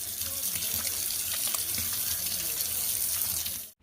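Water from a sink tap runs steadily as hands are washed with soap lather, a close, continuous splashing gush that cuts off abruptly at the end.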